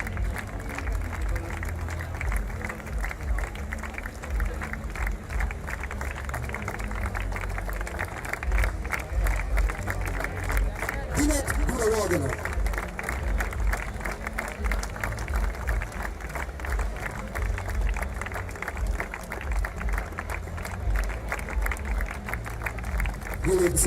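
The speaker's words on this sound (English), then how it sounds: "Ladies and gentlemen, give a round of applause to the" Sustained applause from a large crowd at a ceremony during the Richmond–Mahinda school cricket encounter, a steady dense roar of clapping with cheering and voices mixed in throughout.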